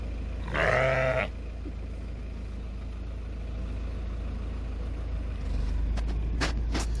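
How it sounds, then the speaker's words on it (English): A sheep at a campsite gives one clear, loud bleat early on, then a low idling engine rumble carries on, with a few faint clicks and chirps near the end. "Is that not the weirdest sheep you've ever seen?"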